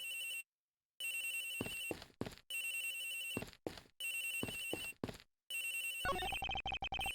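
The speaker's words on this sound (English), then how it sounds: "Agent Hicks's phone! It's ringing from somewhere, sir" Telephone ringing in the Ace Attorney Investigations video game, a repeated electronic ring in bursts with short silent gaps, loud and close, followed by a burst of game sound effects at the end.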